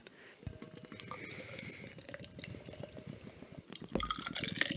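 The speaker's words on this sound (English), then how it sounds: "I just wanted a good pour sound." Beer poured from a can foams up heavily and overflows, a close, steady fizzing and trickling run of liquid with a louder gush near the end.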